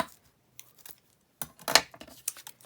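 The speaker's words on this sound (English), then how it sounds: "just going to take that little bit of lace and just snip that down here" Scissors snip a small piece of lace for an altered book. A few short, crisp cuts are heard close by, with light rustling between them.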